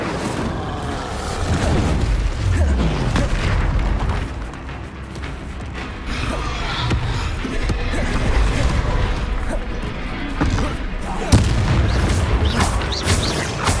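Spell effects cast in the video game Hogwarts Legacy, including Confringo, Expelliarmus and Incendio: a dense run of booming blasts and crackling bursts, loud and continuous, with heavier impacts near the start and end.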